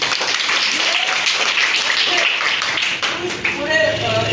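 Applause for a schoolgirl at a school gathering, crowd clapping steadily at moderate loudness with a voice speaking over it toward the end.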